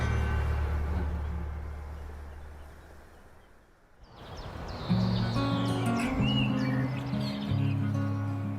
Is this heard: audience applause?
no